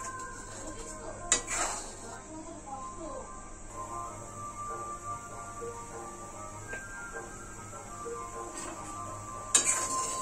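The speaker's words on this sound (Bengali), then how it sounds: "এটা একটু বারবার নেড়ে দিতে হবে" Milk for powdered-milk rasmalai being stirred in a pot over a high flame, with soft scraping and clinks of a spoon against metal, sharper knocks at a few points, and a faint simmer underneath.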